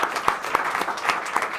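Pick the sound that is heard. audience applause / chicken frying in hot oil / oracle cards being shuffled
audience applause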